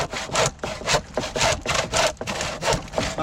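A hand saw cuts through a wooden scaffolding board with rhythmic back-and-forth rasping strokes, about a dozen close, loud and even, with no talking.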